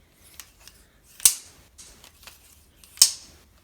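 Light 3D printed plastic handles of a butterfly knife (balisong) clack as it is opened with a double rollout: two sharp, bright snaps stand out among several softer ticks, close and crisp with nothing else heard.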